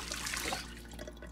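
Water pouring from a water cooler in the Project Zomboid video game, a short steady splashing trickle that is loudest at the start and then thins out, heard alone and close.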